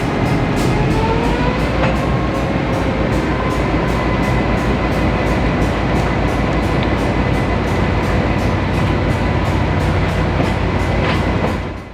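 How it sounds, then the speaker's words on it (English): Mount Hood Railroad locomotive throttling up for a grade, a loud steady diesel drone with a low rumble and a faint rhythmic clatter running through the whole stretch, no voices. "the engineer throttles up for the grade as they proceed further south"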